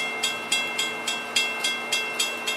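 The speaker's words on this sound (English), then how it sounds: "Alright, YouTube, here comes another train." A train passes by on a cold, rainy day, its wheels clicking over rail joints in a steady, evenly spaced clatter, fairly close and alone without talk.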